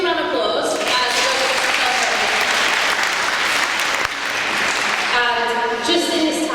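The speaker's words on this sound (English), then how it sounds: "Let's give a round of applause." Audience applause fills the space with a steady rush of clapping, while a voice speaks or sings over it at the start and again near the end.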